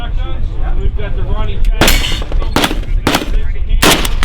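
Loud, sharp gunshots ring out at a shooting range, fired while testing an MSE AQC-1 multi-reticle red dot sight: four cracks spaced irregularly over a few seconds, after someone talks over steady background noise.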